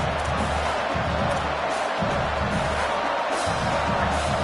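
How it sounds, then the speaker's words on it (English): Loud roaring college football stadium crowd in a college football video game, a dense continuous wash of cheering and noise that holds steady throughout. "This crowd trying to make life miserable for this offense."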